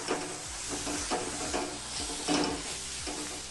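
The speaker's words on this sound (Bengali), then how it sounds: "এখন মশলাটাকে একটু নেড়েচেড়ে ভেজে নেব" Masala with cashews, coriander powder and Kashmiri chilli powder is stir-fried in a pan, giving a steady close sizzle with repeated scraping strokes of a spoon in an even rhythm, and no voices.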